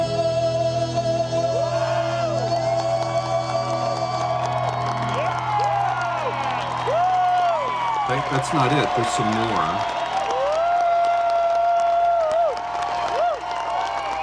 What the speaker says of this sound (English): You know you've done good when the crowd just interrupts the rest of the song to clap for you